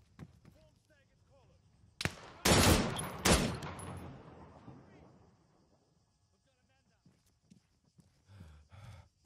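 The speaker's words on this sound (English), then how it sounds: "And I brought along my favorite light machine gun. Jesus Christ, that is a meaty sounding gun." A light machine gun in Antistasi on Altis, an Arma 3 mod, fires two loud, meaty bursts close by, each with a decaying echo tail, while someone talks before and after.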